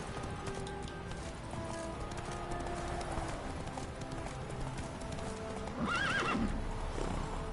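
A horse in the video game The Witcher 3 clops along steadily under a constant game soundscape, then gives a loud, close whinny near the end.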